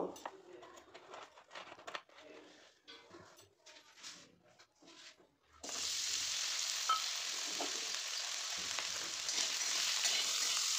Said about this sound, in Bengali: এরপর কড়াইতে অল্প সর্ষের তেল দিয়ে আলুগুলো একটু লালচে করে আমি ভেজে নেব।